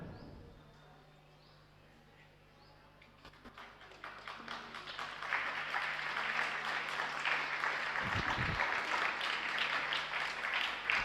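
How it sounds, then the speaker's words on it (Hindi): Applause from an audience at a Jain religious discourse, a dense patter of clapping that rises after about three seconds and holds steady and fairly loud to the end. "क्यों ताली बजा दी?"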